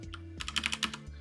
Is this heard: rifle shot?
no